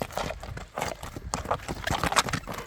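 A horse being shown for sale at a livestock bazaar clops its hooves in quick, uneven steps close by, with market bustle around it.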